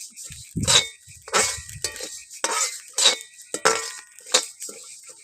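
Raw rice dry-roasting in a pan, stirred in close, repeated scraping and rattling strokes, roughly seven bursts with short pauses between them.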